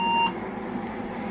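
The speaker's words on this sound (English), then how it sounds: "it doesn't stop the PCB speaker alarm" Steady electronic beep from a PCB speaker alarm inside a Saturn server tower case, a single tone with harmonics sounding loud and close for a moment, then cutting off into low mechanical hum.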